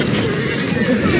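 A horse in Assassin's Creed Syndicate gives a short neigh over a steady background rumble, with a voice speaking at the same time.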